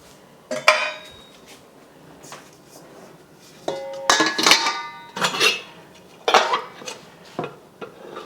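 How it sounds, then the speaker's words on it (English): A metal colander is handled in a home kitchen while making lavender vinegar, giving scattered metallic clinks and clatters against pots and utensils in several close, separate bursts between quiet pauses. "So now I'll get the colander ready to do the second big batch"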